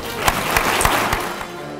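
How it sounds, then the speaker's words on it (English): A crowd applauds a professional Army garrison workforce at a Fort Meade gathering, a short burst of dense clapping with a few sharper individual claps standing out. "Please join me in a round of applause for your professional garrison workforce."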